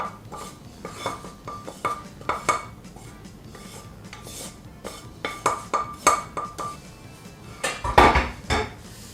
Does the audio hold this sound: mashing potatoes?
yes